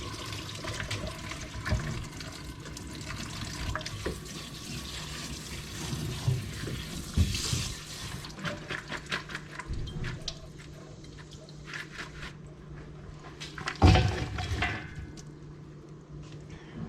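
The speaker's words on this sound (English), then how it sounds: "I'm gonna put them in a strainer in the sink and rinse them with cold water" Cold tap water runs into a kitchen sink over salted pickles in a strainer, a continuous splashing rush with gurgles and clatters, swelling and fading as the pickles are rinsed, with no voices.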